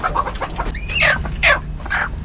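Kadaknath black rooster crowing close by in a farm setting, a few short bright calls with clucking in between against low background noise.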